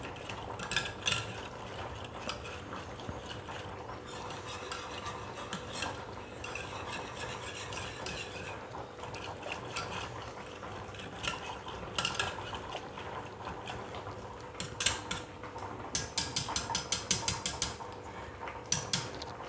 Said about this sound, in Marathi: आता आपण याला एक जीव करून घेऊया